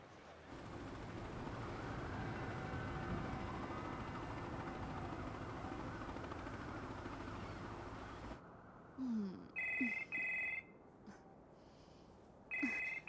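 A telephone rings in short repeated electronic bursts near the end, following a long stretch of steady low hum.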